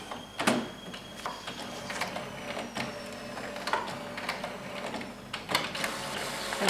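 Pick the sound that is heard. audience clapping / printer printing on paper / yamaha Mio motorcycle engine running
printer printing on paper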